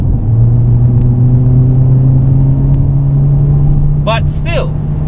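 A 2020 Mercedes-AMG CLA 45 S 4Matic+ engine drones loudly and steadily under acceleration, a sustained rumble with a brief higher whine near the end, while someone talks over it.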